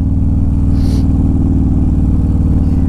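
A Harley Road Glide with a 130 cubic inch engine pulls hard in third gear, its deep, throbbing exhaust drone loud, close and unbroken.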